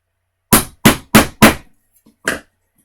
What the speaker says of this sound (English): we're going to hit it with our hammer